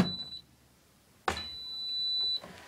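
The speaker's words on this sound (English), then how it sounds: "a very nice beep sound it's got" A Zanussi ZWG7160P washing machine gives two electronic beeps: a short one, then a longer sustained tone after a soft click, in a quiet room.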